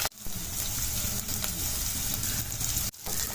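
Onions and cabbage frying on a high flame for street-style veg fried rice: a steady, close hiss of sizzling oil with brief scraping stir noises and short breaks, no talking over it.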